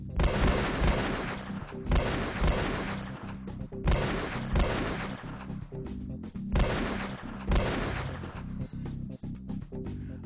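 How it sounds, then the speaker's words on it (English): Rifle gunshot sound effects in a Western-style scene, a series of loud booming shots in clustered bursts with reverberant tails, repeating over about ten seconds, no speech. "The cowboy takes out his rifle and takes aim."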